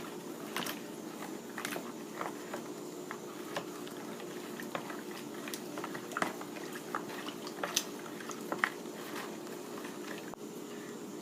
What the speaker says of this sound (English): I'm just going to stir it up, make sure that all of the powder is dissolved